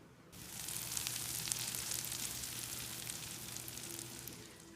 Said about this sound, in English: Listen to that gentle, steady sizzle.